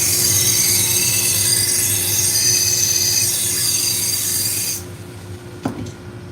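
A knife blade is ground on a coarse abrasive, likely a 120-grit belt, giving a loud, continuous rasping hiss that stops abruptly near the end, followed by a brief metallic tap.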